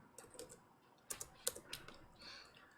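Keys tap on a computer keyboard while Python code is typed, with a few quiet, scattered clicks in short bursts against a near-silent room.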